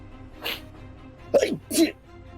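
A person sneezes during a tabletop role-playing game session: a soft intake followed by two sharp, close sneezes.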